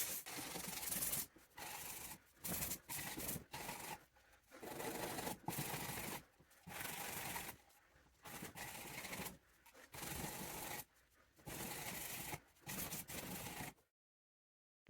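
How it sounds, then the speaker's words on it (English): A sanding block rubbed by hand over the wing of a salvage Aston Martin DB7 V12, in repeated bursts of raspy scraping strokes separated by short pauses, close and alone before falling silent at the end. "So that's why you need a sanding block."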